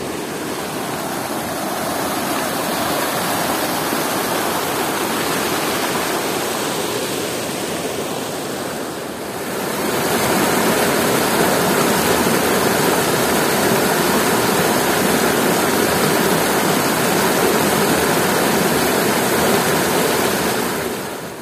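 Cold water cascades like a waterfall over a mountain road in a valley village, a loud, continuous broadband rush that dips briefly and then returns even stronger, with no voices.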